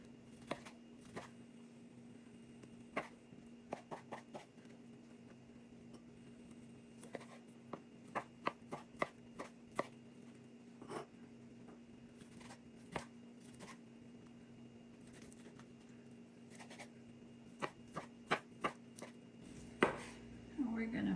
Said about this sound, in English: So let me cut this.